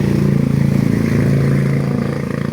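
A loaded multicab light truck, carrying bundled reeds, runs its engine with a steady low, throbbing idle held close and loud throughout, dipping slightly toward the end.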